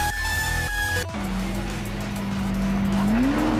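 A Ferrari accelerates hard with loud, sustained tire squeal, its engine pitch climbing steadily after a sudden cut from a higher tone, close and intense throughout.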